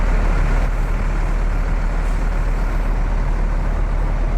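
A bus pulls into a crowded terminal, a loud, steady low engine rumble dominating throughout, close and continuous, with no talk.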